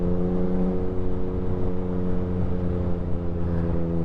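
A brand new 2022 Aprilia Tuono 1100 Factory motorcycle engine holds a loud, steady, throbbing drone at close range for the whole stretch, with no voices.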